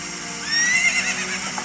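A horse whinnies in a rising, wavering call in The Legend of Zelda: Ocarina of Time, over a steady electronic background hum, with faint hoof clatter.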